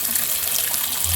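Bathroom sink faucet running and splattering, a loud continuous close-up rush and hiss of water spraying into the basin, steady throughout with no talk.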